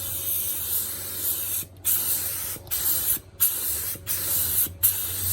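A spray gun blasts lacquer thinner through itself to clean it out, a loud continuous hissing spray broken by several short pauses between bursts, with no talking.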